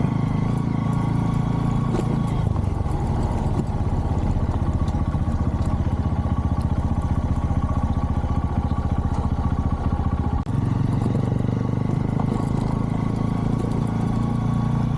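A motorcycle rides along a forest road with a continuous engine drone and rattling clatter up close, steady in level for the whole stretch.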